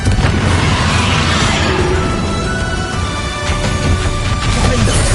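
Spell explosions in the video game Hogwarts Legacy: loud, continuous booms and crashes pile on one another throughout, with no break and no voices.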